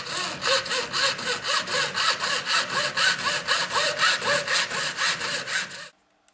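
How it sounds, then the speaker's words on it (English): A hacksaw cuts through perspex in fast, regular back-and-forth strokes, loud and close, each pass a rasping burst, until the cutting stops abruptly near the end. "So I'll hacksaw that off."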